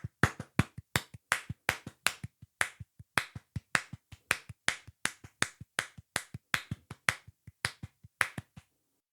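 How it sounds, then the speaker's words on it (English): Hands clap a steady, evenly spaced rhythmic beat, about four sharp claps per second, close and clear, with no talking. "I'll try to clap it without yapping into the mic to give a better example."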